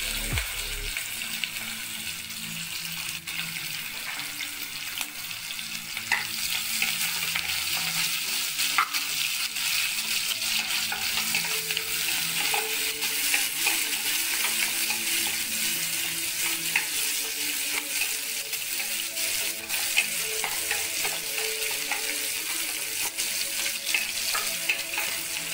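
Onion, garlic and ginger fry in a pan with a steady, close sizzle, broken by the scrape of stirring. A louder burst of frying comes in after the first few seconds and holds to the end, with no talk.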